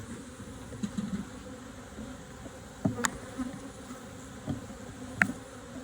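Honey bees humming faintly in an opened hive during a spring swarm-prevention inspection, a soft continuous drone with a few brief handling knocks.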